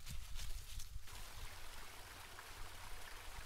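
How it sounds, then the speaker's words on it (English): Flowing stream water in a quiet horror video game, a soft continuous trickle and gurgle heard faintly in the background, steady throughout with no one speaking. "I hear water."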